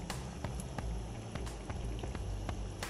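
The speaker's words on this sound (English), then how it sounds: "this is how I put them in the pot where it won't splash" A seafood boil pot bubbling steadily at close range as potatoes are lowered in, with small irregular plops and splashes over a constant rolling boil and no talking.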